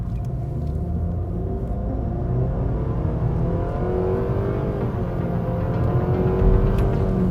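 A 2020 Nissan Sentra with a CVT accelerates from a standing start, heard from inside the cabin as a steady droning engine rumble that rises smoothly in pitch with little stepping, loud and continuous without talk.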